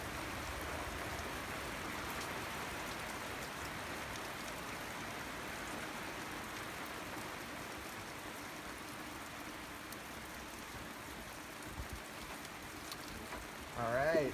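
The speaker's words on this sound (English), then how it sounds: "It just started raining and" Steady rain falls outdoors, a soft, even hiss of drops on surfaces that continues throughout and stays faint and distant.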